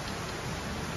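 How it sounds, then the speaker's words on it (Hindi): Heavy rain pours down at night as a dense, constant hiss and patter with no break, close and filling the whole short stretch with no voices. "बड़ी भारी ख़तरनाक बारिश गाइस, इतनी ख़तरनाक ना।"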